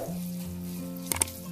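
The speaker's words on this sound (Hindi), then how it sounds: "जो दाल थी उसे थोड़ा थोड़ा करके तो हम डाल देंगे, इसे भी हमने भूनना है अच्छे तरीके से" Moong dal roasting in desi ghee with semolina and gram flour over a medium-low flame gives a soft, steady sizzle, with a couple of brief scraping stir sounds near the end.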